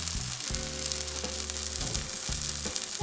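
A vegetable pancake frying in a pan, a steady close sizzle with a low tonal hum running beneath it and occasional louder crackles, no talking.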